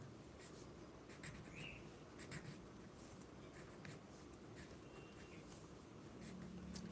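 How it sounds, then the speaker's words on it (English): Faint pen or marker strokes scratching across a writing surface, in short irregular bursts over a low background hiss, with no talking. "I am writing"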